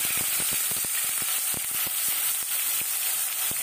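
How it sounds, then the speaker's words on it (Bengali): Onion paste sizzles in hot mustard oil with a loud, continuous hiss, close by, broken by frequent small pops and light clicks throughout, and no one talking. "তেলটা ভালোভাবে গরম হয়ে এলে দিয়ে দেব 1/2 কাপ পরিমাণ পেঁয়াজ বাটা।"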